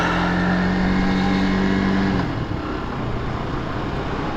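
A WK Scrambler 125cc motorcycle runs steadily at close range, its engine tone holding and then dropping as it shifts into first gear, with a continuous drone throughout.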